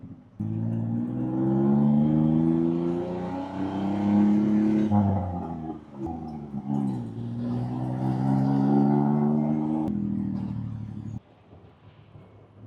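A tuk tuk's small engine rumbles and revs steadily during a ride through Bangkok at night, close and continuous, with a voice talking over it for much of the time before the engine noise eases near the end.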